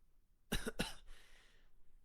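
A young man gives two quick, soft coughs close up, followed by a faint breathy throat sound in an otherwise quiet room.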